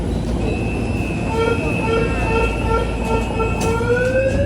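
MRT metro train in Manila running along the track, a steady loud rumble with rising wheel and motor whine tones, heard from inside the car.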